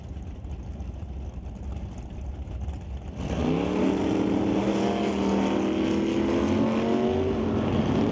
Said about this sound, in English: Steve Veach in the left lane in the 72 Plymouth, racing against John Lackey in the 66 Acadian.